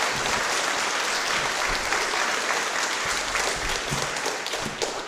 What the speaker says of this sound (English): Let's give Mr. Steve a round of applause.